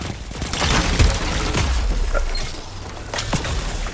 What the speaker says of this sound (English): That was a horrible grenade throw.